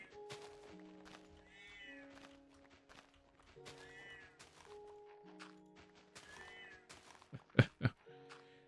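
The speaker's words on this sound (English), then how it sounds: "You can just hear him meowing" A cat meows repeatedly inside a Minecraft game, several short rising cries spaced over soft sustained musical tones, with a couple of sharp thuds near the end.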